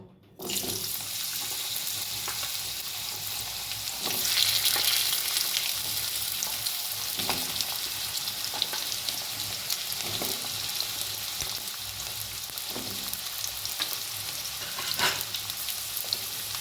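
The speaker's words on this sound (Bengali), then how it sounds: "প্রথমে আমি আলুগুলো ভেজে নেব।" Loud, continuous hiss of potatoes frying in mustard oil in a kadai, swelling briefly partway through, with faint scraping and no talking.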